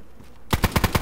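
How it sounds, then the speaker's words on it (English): A rapid burst of automatic gunfire from another player in a first-person shooter video game, about five sharp shots in quick rhythm after a brief quiet lead-in, loud and close. "That's someone else shooting."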